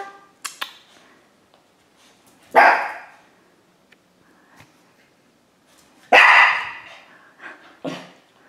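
A dog barks in a few loud, sharp bursts separated by quiet gaps, with softer yips and small noises in between.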